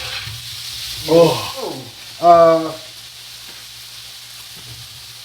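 Paella sofrito sizzles in a pan with a steady frying hiss, while a person briefly exclaims and voices come through over the cooking noise.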